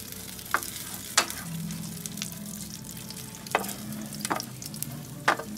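Pieces of pork with some skin render and fry in a paella pan on the stovetop, giving a steady close sizzle broken by a few sharp scrapes and stirring knocks, with no talking.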